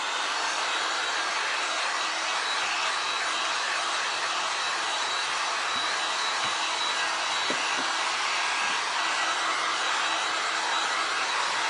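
A hair dryer blowing steadily on a freshly made resin pumpkin stem for a glass and resin craft, a constant loud whooshing hum that holds without pause, with no voices.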